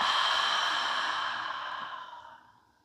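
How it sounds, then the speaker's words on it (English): A deep, slow breath during a yoga session, a long soft airy exhale that starts full and gradually fades out over a few seconds, close and quiet with no talk. "We'll all take a deep inhale and exhale here."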